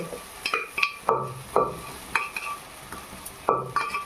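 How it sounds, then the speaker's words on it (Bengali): Boiled lentils added to a pan of greens and melted tomato and stirred, with repeated close clanks and scrapes of a spoon against the pan over a soft sizzle. "এবারে সেদ্ধ করে রাখা ডাল আমি এর মধ্যে"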